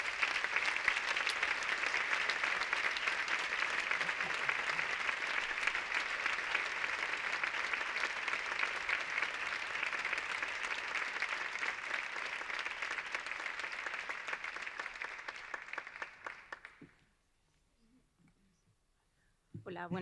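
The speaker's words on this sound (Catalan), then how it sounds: "un aplaudiment per les arts escèniques de tota València" A theatre gala crowd gives long, warm applause for Valencian performing arts, steady dense clapping that holds for about fifteen seconds, then thins and fades into near silence before a voice begins at the end.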